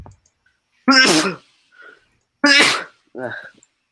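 Two sharp, loud sneezes close by, a second apart, followed by a short voiced sound.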